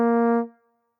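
A single trombone note, part of a diminished dominant lick, played solo: a bright, held brass tone that sounds cleanly for a moment, then fades quickly into silence.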